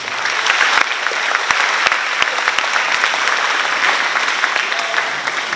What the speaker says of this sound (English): Let's give our director one more big round of applause.